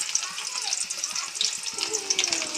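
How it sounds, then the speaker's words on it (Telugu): Steady sizzling of onions and cumin frying in hot oil in a wok for fish curry, close up, with a faint voice underneath. "ఉల్లిగడ్డలు జీలకర్ర తాలింపులో వేసిద్ది"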